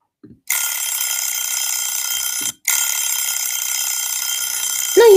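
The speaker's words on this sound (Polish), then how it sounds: "Timer." An electronic sound button sounds a timer alarm: a loud, harsh buzzing tone held for about two seconds, a brief gap, then a second long burst, heard alone at close range.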